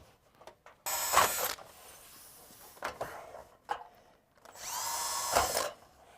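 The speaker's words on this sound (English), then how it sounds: "take a small drill, drill a series of holes" A power drill whirs in two bursts of a second or so each, drilling small holes in steel board and batten siding close by, with scattered clicks and handling noises between them.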